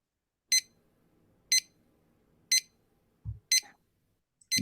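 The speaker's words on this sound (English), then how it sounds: "normal alarm sound" A timer app's default alarm sounds as evenly spaced sharp electronic beeps about once a second, loud and close over a quiet background, with a brief thump near the end.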